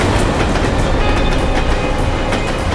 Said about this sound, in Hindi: जैसे ही ट्रेन की आवाज़ सुनाई दी थी